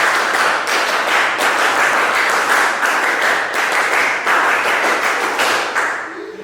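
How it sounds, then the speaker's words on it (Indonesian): A group of vocational high school students performs the scout-style patterned clap in unison, a loud, close run of sharp rhythmic claps in quick bursts for several seconds before tapering off. "Tepuk pramuka."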